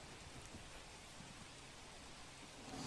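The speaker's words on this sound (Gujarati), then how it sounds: "સુરત નવી સિવિલ હોસ્પિટલમાં વરસાદી પાણી ટપકી રહ્યું છે" Rainwater dripping and falling through the roof at a civil hospital in Surat, a steady dense patter of drops on surfaces that holds at an even level throughout, with no voices.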